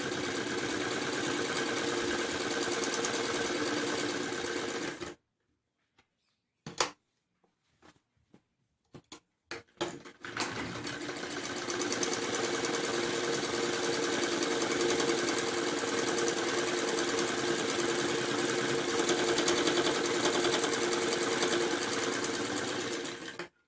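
A sewing machine stitches a back neck design on fabric in two steady runs of continuous whirring, split by a short pause with a few brief stop-start bursts, with no talking.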